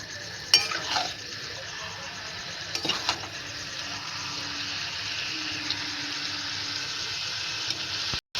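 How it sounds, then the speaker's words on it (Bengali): Goat liver stir-frying in a pan, a steady close sizzle with a few sharp scrapes and clatters of a spatula. "ভালো করে এবার কষতে হবে বন্ধুরা"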